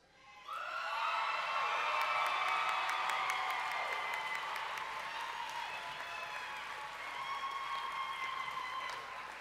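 A crowd at the 2019 autumn Central Ohio Technical College commencement bursts into sustained applause and cheering for new graduates, with whoops and shouts rising over dense clapping that holds steady for several seconds.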